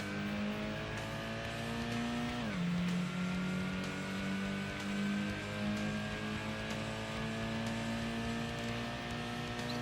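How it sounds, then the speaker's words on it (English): A Mazda MX-5 in the racing video game Gran Turismo revs up through its gears with a sustained engine drone and a clear drop in pitch at a shift, continuous and steady with no voices. "Just accelerating up through the gears,"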